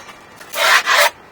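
A screwdriver is scraped along skateboard grip tape in two close, rough rasping strokes, each about a quarter second long.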